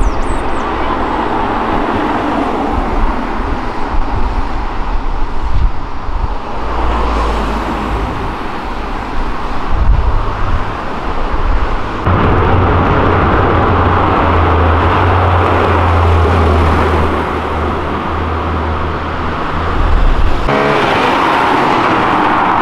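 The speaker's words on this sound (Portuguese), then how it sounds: "o carro é perfeito e ainda com um ronquinho gostoso" Dodge Ram pickup fitted with a Viper engine of over 500 hp, idling with a steady low rumble throughout, close and fairly loud, with a rise in revs near the end.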